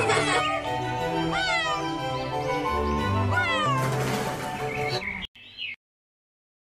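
An animated cat in a 3D children's phonics alphabet song meows twice, each a clear rising-falling call set over a bright, bouncy musical backing, before the sound cuts off abruptly.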